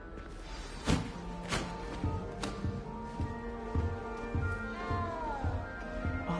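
A cat in the Hogwarts Legacy video game meows several times at close range, short plaintive calls spaced out over a soft background with faint thumps.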